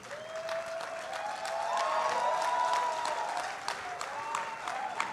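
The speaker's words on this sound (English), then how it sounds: "The applause you hear are well deserved, I assure you." Audience applause at a memorial service of songs, a steady broadband patter of clapping that swells in the middle and trails off, with a few louder individual claps near the end.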